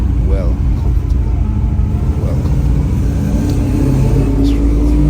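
A 1970 Chevrolet Chevelle LS6 idles on the street with a loud, steady low rumble that runs through the whole stretch without a break.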